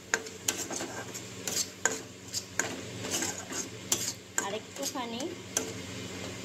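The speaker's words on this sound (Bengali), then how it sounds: "এটাকে ভালো করে নেড়ে নিচ্ছি" A spoon scrapes and clinks against a pan while garam masala and Kashmiri red chili powder are stirred into a brinjal and prawn dish, with irregular close-up knocks and rubbing strokes repeating every second or so.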